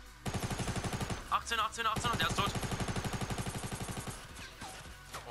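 Rapid bursts of automatic gunfire from a Fortnite match, loud and repeated in fast rhythmic volleys through most of the stretch, with a brief pause near the middle, while players talk over the shots.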